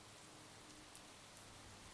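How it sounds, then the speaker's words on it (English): Faint, steady rain falling outdoors as a soft continuous hiss, with a couple of brief tiny drop ticks and no voices. "Is that rain?"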